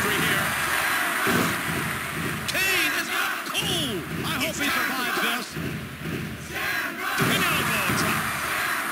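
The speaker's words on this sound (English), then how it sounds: "The crowd is going nuts. I can hardly hear myself talk." Roaring arena crowd in the WWF Warzone wrestling video game, loud and sustained with whoops and cheers, under commentator-style voices and occasional thuds.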